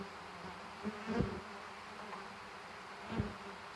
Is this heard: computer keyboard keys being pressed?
no